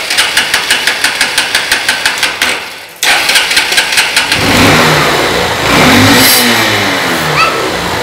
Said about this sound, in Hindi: ये अब जो हमारी गाड़ी है वो LPG पे कंप्लीट वर्क कर रही है